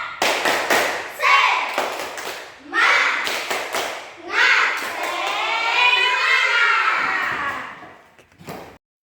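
Class of children doing a rhythmic spirit clap in an Indonesian classroom, with several bursts of patterned clapping mixed with chanting and a long shout from the group.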